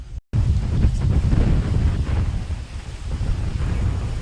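Biting wind in dense fog while descending Girnar mountain, a loud, steady rumbling buffet against the microphone after a brief cut at the start, with no voices.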